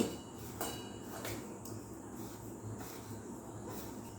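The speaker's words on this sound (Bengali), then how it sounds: "নুন আর চাট মশলার সঙ্গে এই লঙ্কাটা একটু ভালো করে চটকে নিতে হবে" Fried dried chilli is mashed with salt and chaat masala in a bowl: soft, irregular clinks and taps of utensil on dish, fairly quiet and close, with no talking over them.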